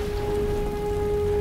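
Heavy rain falls in a movie battle scene from The Matrix Revolutions, a steady, dense hiss of drops on surfaces with a low rumble underneath, loud and unbroken for the whole clip with no speech.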